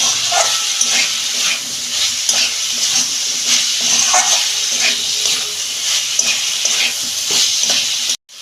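Water poured into a pan of soybean curry with potato and kohlrabi, a steady close hiss and sizzle with stirring clatter running throughout, no voices.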